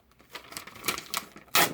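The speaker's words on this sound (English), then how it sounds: "I'm going to rip it out." A sheet of paper being ripped out of a notebook, heard as several short tearing rasps that end in one louder, sharper rip, close and alone with no talking.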